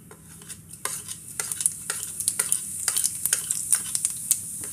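Cumin seeds sizzling in hot oil in a kadai, the start of a jackfruit kofta curry: a close, bright, crackling sizzle with many quick pops and occasional stirring clinks, growing busier over the few seconds, with no speech.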